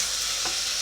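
Onions sizzle in a pan for a lentil and kumara curry, a close, steady broadband hiss with a brief soft stir partway through, no voices.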